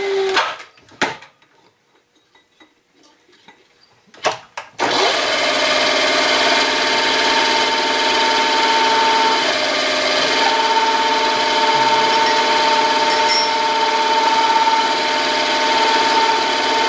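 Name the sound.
drilling and tapping a hole in a machined spline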